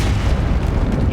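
A fire spell cast in Hogwarts Legacy makes a dense, booming roar that holds steady and loud for the whole moment, with no gaps.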